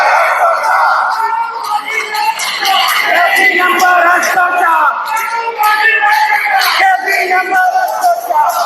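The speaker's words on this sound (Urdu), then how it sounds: "یہ ہیں جی وکلا کے نعرے" Lawyers at a Lahore High Court Bar Association convention chanting slogans in unison, a loud, dense crowd of voices with rhythmic shouted phrases and cheers that fill the whole stretch.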